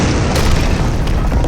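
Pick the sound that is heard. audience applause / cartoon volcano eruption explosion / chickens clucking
cartoon volcano eruption explosion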